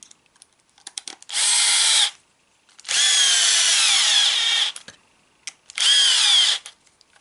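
A power drill drives small screws into the chassis of a Hotbodies E817T RC car in three bursts of steady whirring, each lasting about a second or two, with short quiet gaps between.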